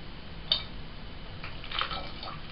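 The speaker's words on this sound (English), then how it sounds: "Now we fill it the rest of the way up with water." Water runs steadily into a bottle being filled for fermentation, giving a soft continuous rushing and trickling with a brief clink near the start and no voices.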